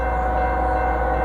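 Freight train at Dudley led by a pair of Union Pacific locomotives, an ES45C and an SD70M, rumbling steadily and loudly with a continuous low drone and no horn blast.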